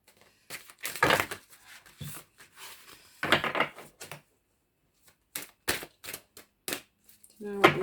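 Tarot cards riffle and slap together in bursts of shuffling, close by, with short pauses between rounds and a faint voice near the end.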